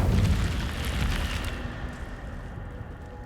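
The Incendio fire spell cast in Hogwarts Legacy bursts out as a loud, roaring whoosh of flame that swells at once and then fades away over a few seconds, with no voices.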